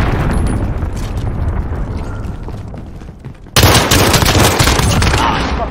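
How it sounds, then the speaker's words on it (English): Cruise missile strikes in Call of Duty: Modern Warfare multiplayer hit as a rumbling barrage of explosions, with a sudden, much louder blast midway that keeps roaring to the end. "Allied cruise missiles on the way."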